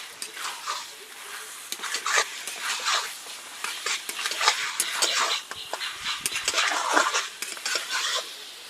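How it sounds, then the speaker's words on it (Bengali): Chicken pieces coated in marinade and spices being stirred in a pan for a rustic village-style chicken curry, with steady scraping of a utensil against the pan and clinking metal, close and continuous with no talk. "এখন চিকেনটা দিয়ে মশলার সঙ্গে খুব ভালো করে মিশিয়ে নিচ্ছি"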